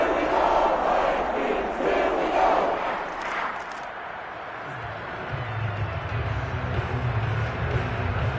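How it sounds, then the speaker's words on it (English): A football stadium crowd roars for the Steelers game defense after a stop that forces fourth down, loud at first and then easing into a lower, rumbling murmur. "How about some applause for the defense there?"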